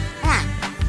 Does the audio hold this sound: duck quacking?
yes